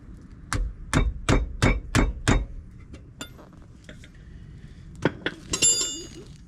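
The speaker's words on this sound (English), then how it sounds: "giving them a few taps with the mallet" Six sharp, evenly spaced mallet taps on the wheel nuts of a Subaru Impreza GC8 raised on a high ramp, loud and close, followed by a few quieter metallic clinks and knocks.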